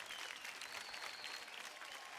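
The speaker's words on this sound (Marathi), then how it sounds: "त्यांच्यासाठी जोरदार टाळ्या होऊन जाऊ द्या" Dense, steady audience applause from a studio crowd on a Marathi dance television show, continuous and fairly loud throughout with no voices on top.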